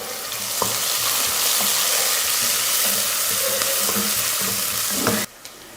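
Sliced onion frying in hot oil with bay leaf, cinnamon and cloves, a loud, steady sizzle with occasional scraping stir strokes, cutting off abruptly near the end.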